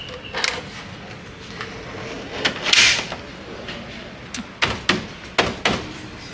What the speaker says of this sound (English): A drop-down table.